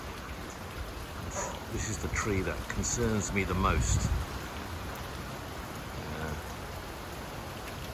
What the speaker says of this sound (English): It's been raining basically constantly.